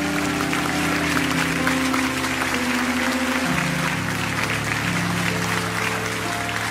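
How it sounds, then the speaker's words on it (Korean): A church congregation applauds to bless the children at a special autumn dawn revival service, dense sustained clapping over steady organ-like sustained tones. "우리 한 번 더 이 아이들 큰 박수로 마음을 담아 축복합니다"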